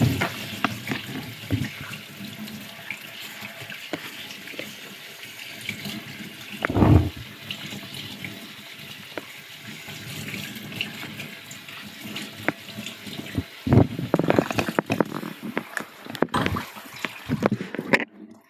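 Cold water running from a kitchen tap in a cooking setting, a steady close splashing stream with a few louder gushes and clatters, no talking.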